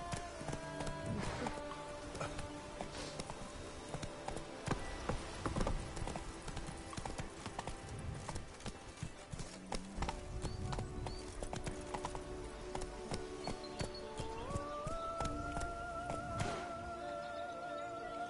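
A horse gallops in The Witcher 3, rapid rhythmic hoofbeats that are close and clear, with game music and sound effects layered underneath and a rising tone near the end.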